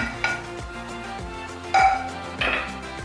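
Scrambled egg tipped into a pan of fried rice and stirred, a spatula scraping and clinking against the pan in quick strokes over a low sizzle, with a few louder bursts of scraping.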